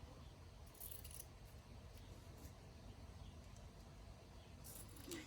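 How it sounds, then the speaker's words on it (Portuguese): Scissors cut through the fabric lining of a sewn zip pouch, giving a few brief, faint snips near the start and the end against a quiet room background. "Agora, vamos cortar o outro lado"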